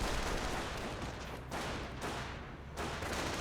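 Gunfire in the World War II strategy game Company of Heroes, dense overlapping shots and rumbling battle noise filling the whole clip.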